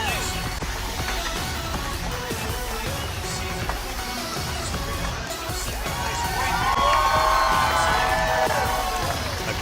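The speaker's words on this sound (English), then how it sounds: "Great crowd here in Rhode Island." Crowd cheering at a women's professional bowling championship final in East Providence, Rhode Island, a loud, sustained roar of voices with whoops and shouts that swells toward the end.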